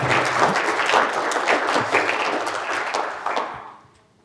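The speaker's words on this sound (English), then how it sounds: "again, big applause for Bastian." Audience applause after a draw.io Board editor partner info session presentation, a steady burst of clapping from a room of people that holds even for a few seconds, then fades out quickly.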